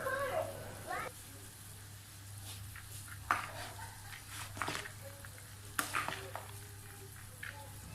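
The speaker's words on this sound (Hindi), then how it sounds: "इसमें रेड कलर डाल देंगे और इन राइस को मिक्स कर लेंगे" A spoon scrapes and clinks while coloured zarda rice is mixed in a pot. The stirring strokes are soft and irregular over a low steady hum, and a muffled voice can be heard briefly.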